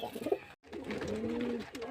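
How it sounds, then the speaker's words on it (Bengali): Pakistani Golden pigeons of a border-marked foreign breed coo nearby, a soft, low rolling coo that repeats and hums steadily over a brief gap of near silence. "আজকে কিছু পায়রা দেখাবো বাইরেকার জাতের পায়রা বর্ডারওয়ালা পাকিস্তানি গোল্ডেন"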